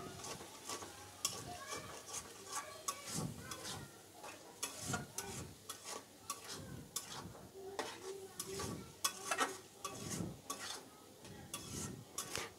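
Boiled loitta dried fish is stir-fried dry in a pan, making quiet, irregular clinks and scrapes of stirring over a faint sizzle, with a soft voice now and then.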